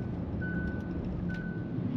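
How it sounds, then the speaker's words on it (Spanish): Two thin electronic lane-warning beeps sound over steady road and engine rumble inside a moving Hyundai plug-in hybrid SUV. "se pone en rojo y ya nos avisa con una alerta sonora también"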